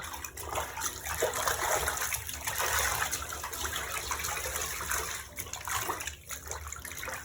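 Water sloshes and splashes in a full tub in uneven surges, with gurgling and swishing as clothing is hand-washed, pressed and squeezed through it to rinse out detergent.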